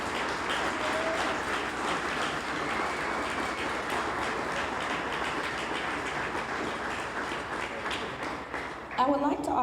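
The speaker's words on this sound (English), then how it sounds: "Let's give them a round of applause." An audience applauds for several seconds at a Hall of Fame induction ceremony, a broad, sustained patter of many hands filling the hall at moderate volume. It fades out near the end, where a voice begins to speak.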